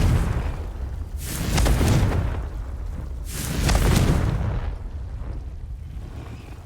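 Two heavy Confringo blasting-spell explosions boom out in Hogwarts Legacy, each a loud broadband burst with a rumbling tail, spaced about two seconds apart, followed by a quieter fading rumble.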